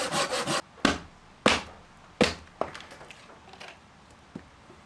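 A hard piece of firewood is sawn in half at a riverside stone-house campsite in the rain: a quick burst of rasping strokes, then several separate loud strokes that fade and grow fainter toward the end.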